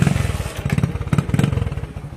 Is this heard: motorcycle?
yes